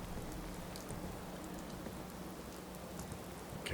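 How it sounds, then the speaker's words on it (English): Steady rainfall patters down continuously, a dense even hiss of drops striking surfaces, with no voices. "Oh my, it's raining again."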